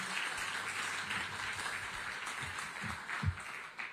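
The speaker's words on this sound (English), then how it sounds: "Can we give the Honourable Minister a better hand clap" A conference audience at an economic growth forum gives a minister a round of hand claps: dense, moderately distant applause that holds steady and then starts to thin out.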